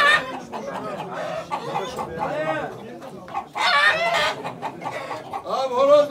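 Roosters and chickens clucking and squawking close by at a poultry auction in Ankara, a busy overlapping flurry of calls that swells louder toward the end.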